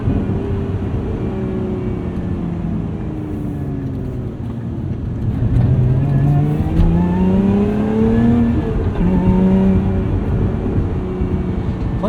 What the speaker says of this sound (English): And you can really rev this thing out.